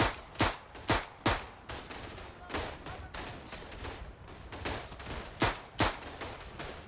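Rifle and machine-gun fire in the World War I shooter Verdun: loud, near single shots and short bursts crack at an irregular pace, with quieter distant firing rattling in the gaps.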